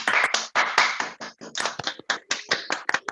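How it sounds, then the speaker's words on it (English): A small audience at a Bromley interfaith group meeting gives a final round of applause, with close, uneven hand claps that come in bursts and form a short, lively patter with no speech. "Shall we finish with a final round of applause for them,"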